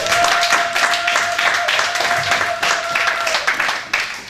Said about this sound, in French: Est-ce qu'il peut avoir une offrande d'acclamation?